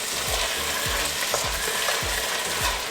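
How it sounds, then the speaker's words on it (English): Garlic and cumin frying in a pan for a tomato and sourdough soup, a steady close sizzle with regular scraping strokes from stirring, no voices. "the garlic and the cumin have been frying in here for about 2 minutes"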